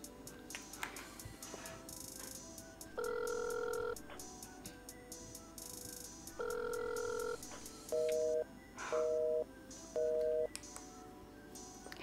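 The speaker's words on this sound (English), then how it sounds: "Dialed 12 missed calls and he still won't pick up." A phone call rings unanswered, with repeated electronic ringback tones in even bursts at moderate volume, the later tones shorter and closer together, over a quiet background hiss.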